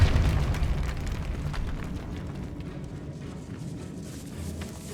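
A Depulso spell blast in Hogwarts Legacy, set in a decayed catacomb, opening with a heavy rumbling burst that slowly fades into a low, lingering roar.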